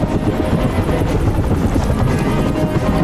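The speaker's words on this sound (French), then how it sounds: "il y a des hélicos" Helicopters thunder steadily in an action film, a dense, loud rotor roar that fills the whole stretch without pause.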